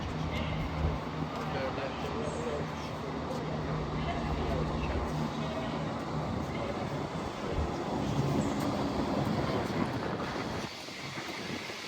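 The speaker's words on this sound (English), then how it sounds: "Now heading off is the 11:38 cross-country service to Cardiff Central." CrossCountry passenger train pulling out of Derby station, a steady rumbling, rolling drone with wind buffeting the microphone, ending in a brief quieter dip near the close, while someone talks over it.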